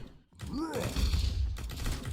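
Gunfire from a weapon in the Roblox game The Resistance Tycoon, heard as a dense burst of shots and thuds with a rising synthetic tone, continuous and fairly loud, with no talk over it.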